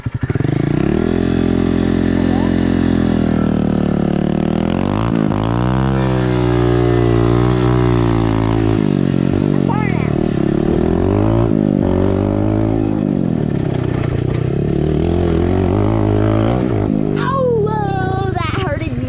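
A dirt bike doing a burnout in a yard, engine roaring loudly and continuously with repeated rising and falling revs as the rear wheel spins, close by, with voices over it.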